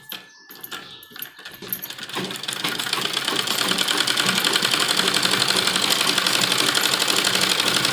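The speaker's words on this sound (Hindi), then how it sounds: "यहाँ पर एक दबी हुई सिलाई लगाएंगे।" Sewing machine stitching a net lehenga blouse, starting with a few short bursts and then running at a steady fast rattle that grows louder and continues to the end.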